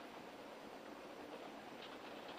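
A continuous rumbling roar of a train rolling along the rails, steady and fairly muffled, with no voices.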